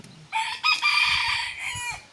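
A rooster crows one long, loud cock-a-doodle-doo, close by, with faint clucking and farmyard rustle underneath.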